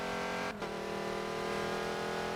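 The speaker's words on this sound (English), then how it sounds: "His car does also not sound healthy." Le Mans race car with an unhealthy-sounding engine in a racing game: a steady droning engine note, a brief dip just after the start, then a sustained loud whine that climbs slightly.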